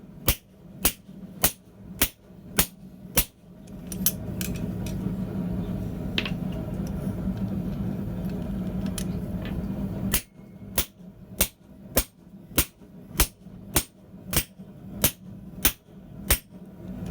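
Hammer blows on mild steel atop butcher dies during forging, heard as a loud, sharp, evenly paced series of metallic strikes, pausing for several seconds of low background rumble before the steady rhythm resumes.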